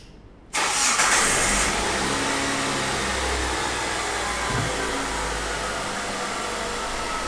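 Car engine cranks and starts abruptly after a quiet moment, then settles into a loud, steady idle hum that runs without voices during an injector waveform measurement.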